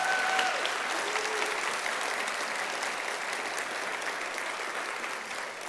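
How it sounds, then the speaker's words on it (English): Audience applause at a digital preservation awards ceremony, a full, sustained round of clapping from a large room that stays steady and slowly tapers toward the end. "I think that deserves a round of applause"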